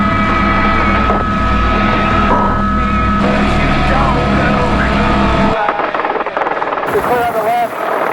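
Helicopter lifting from a ramp for a hog hunt, loud and close, with a steady engine and rotor roar that drops off sharply partway through, under radio-style voices.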